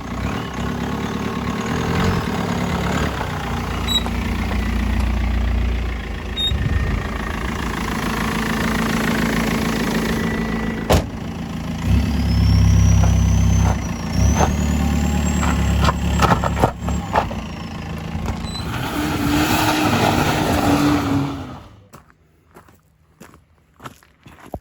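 A BMW 320D drift car with a freshly welded differential runs nearby, a steady low engine rumble with revving swells lasting about twenty-one seconds before cutting off abruptly into near silence.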